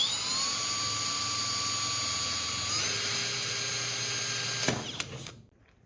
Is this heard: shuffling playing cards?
no